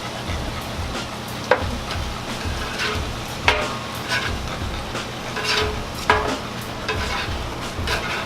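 Seafood noodles sizzle and stir-fry with soy sauce on a Blackstone griddle, a continuous close hiss broken by sharp spatula clanks and scrapes every couple of seconds.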